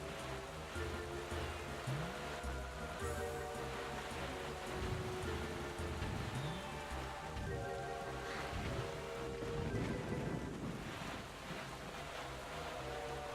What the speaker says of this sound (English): It's a good thing there's a storm going on.